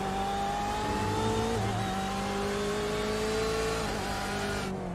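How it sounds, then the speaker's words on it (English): A BMW racing car in the iRacing sim at Okayama drones with a loud, continuous engine note under acceleration, its steady tones shifting slightly in pitch as a low rumble cuts in and out. "computer that tries to prevent the rear tires from spinning under acceleration. And you can kind of hear it. It's like this rumble sound, and it turns on and off."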